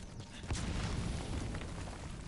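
Grenade blast in the online shooter Metal Gear Online, a dull low boom with a rumbling tail that fills the whole moment, loud and close, with no speech over it.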